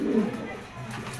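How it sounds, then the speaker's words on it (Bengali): A pair of quality pigeons on a Bangladeshi pigeon farm gives a low, throaty coo at the start, fairly close, then fades into quiet ambient noise. "দেখেন কোয়ালিটিফুল একজোড়া কবুতর"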